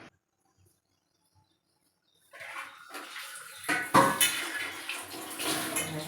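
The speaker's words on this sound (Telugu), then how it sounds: "సామాన్లు అయితే కడుగుతున్నాను." Running tap water splashes over dishes and kitchen utensils being washed at a sink, starting after a quiet pause and continuing steadily, with occasional clinks and louder gushes.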